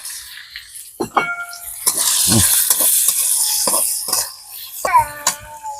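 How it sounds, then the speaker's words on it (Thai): Pork hitting a hot pan of oil with browned garlic for a spring onion and oyster sauce stir-fry, giving loud, steady sizzling broken by sharp spatula scrapes and clatters, close up, with no talk. "อ่ะกระเทียมเหลืองแล้วหมูลงไปเลย"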